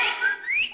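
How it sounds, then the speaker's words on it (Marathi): A person gives a short, bright two-part whistle, rising in pitch, close and clear, lasting under a second with no talk. "मावशीला बघून शिट्टी वाजवतोस तू?"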